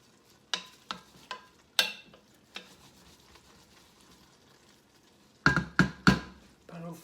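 Kale cooks in a pan with a soft, low sizzle, punctuated by several sharp clanks and knocks of a utensil stirring against the pan, including a quick cluster of hits near the end.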